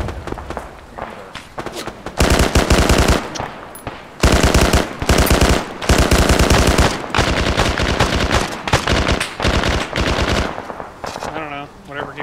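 Machine gun fire in the Arma 3 military shooter comes in loud, rapid bursts separated by short pauses, several long sustained volleys rattling close by.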